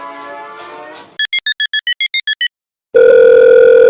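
A telephone call is placed: a buzzing tone plays, then a quick even run of about ten dialing beeps, a short pause, and a loud steady tone that holds to the end.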